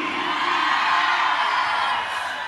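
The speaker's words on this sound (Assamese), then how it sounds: "এই হাত চাপৰি নহয় উৰুলি" A group of women ululating at a wedding celebration, a sustained high warbling chorus that holds steady and loud throughout with a crowd around it.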